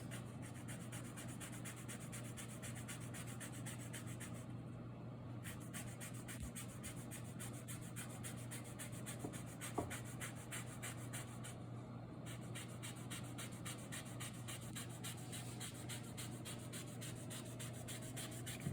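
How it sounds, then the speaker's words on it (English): A tangerine being zested on a grater gives faint, quick rasping strokes in an even rhythm, with a couple of brief pauses in a quiet kitchen. "this is actually a tangerine, but close enough to a real orange, and we're going to zest it"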